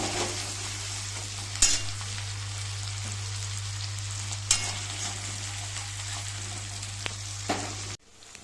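Ginger sizzles steadily in hot salted oil, a dense crackling hiss with a few sharp pops, continuing until it cuts off abruptly near the end over a low steady hum.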